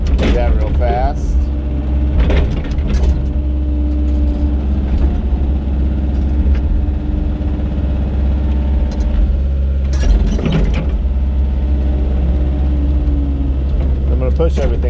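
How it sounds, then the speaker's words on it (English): A tracked machine moving dirt spins around on its tracks, a steady, heavy engine rumble close by, broken by several bursts of clanking track and metal noise. "I guess I got to spin my tracks back"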